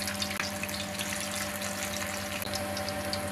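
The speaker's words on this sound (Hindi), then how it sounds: "अब इसमें कबाब डाल लेंगे फ्राई करने के लिए" Chapli kebabs frying in hot oil in a pan, a faint steady bubbling sizzle with a low constant hum underneath and no voices.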